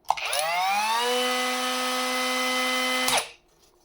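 A cordless Leader 76mm mini angle grinder starts up with a rising whine, holds a steady, fairly quiet high-pitched hum for about three seconds, then stops abruptly.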